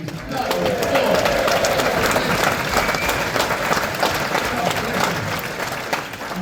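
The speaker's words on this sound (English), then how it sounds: "Round of applause for Pete." Sustained applause from a crowd, steady and fairly loud throughout, with a few voices and cheers mixed into the clapping.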